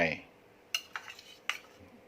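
Utensils clatter against a pan while sauce is poured in and a Thai mixed glass noodle salad is tossed, a few sharp metallic clinks spaced apart over quiet background.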